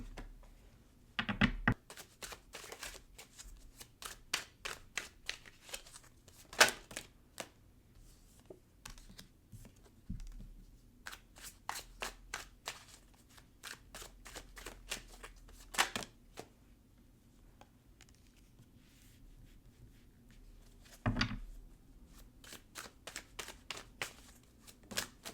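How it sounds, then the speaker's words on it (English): Tarot cards being shuffled and handled, a long run of quick crisp riffs and soft flicks at close range with a few louder slaps, no voices. "let me get the rest of your cards."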